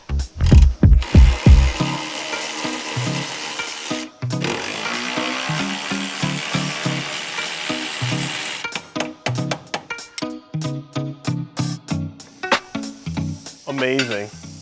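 A ratchet loosens 15mm drive shaft nuts on a Porsche 996, giving bursts of rapid, close clicking with pauses between strokes and some brief louder mechanical clanks.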